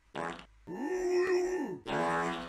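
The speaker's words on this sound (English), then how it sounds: "God, that fart sound effect, dude." A comedic fart sound effect: a short buzzy burst, a longer wavering blat in the middle, then another rasping burst, loud and close with nothing else over it.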